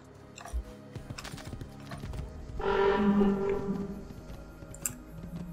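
A horse galloping in the video game Assassin's Creed II, with rhythmic hoof clip-clops building in the middle and fading, set against game ambience and a few sharp clicks.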